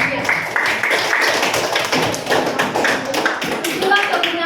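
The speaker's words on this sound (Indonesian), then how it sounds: "berikan aplaus dulu untuk kelompok" A classroom of students claps in applause for a student group, a dense run of quick overlapping claps with voices mixed in, fairly close and lively for several seconds.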